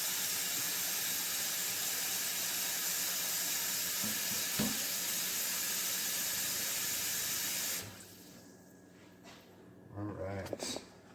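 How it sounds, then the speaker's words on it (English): Steady broadband rush of cold water pouring from a tap into a container for several seconds, then it stops, followed by faint handling clatter. "We're going to go ahead and put some water in here."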